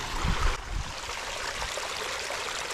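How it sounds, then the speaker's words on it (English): Storm water torrents down a Lake District trail path during a storm, a loud steady rush of flowing water with a brief heavier splash at the start. "oh my God, this is an actual torrent"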